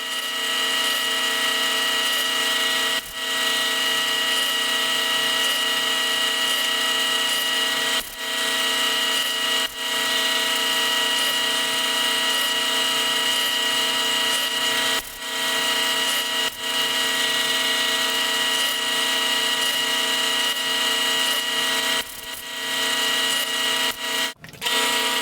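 A drill bit bores holes through metal drawer slides guided by a scrap plywood fence, giving a steady close grinding whir with brief pauses between holes.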